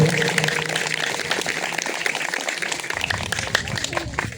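Audience at a youth festival breaks into loud, dense applause, with steady clapping filling the hall from start to finish and a faint voice underneath.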